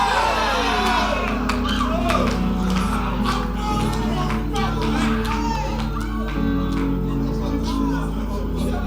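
A church congregation shouts loudly together during a worship service, a dense, continuous roar of many voices with cries and whoops rising throughout, close and sustained without pause.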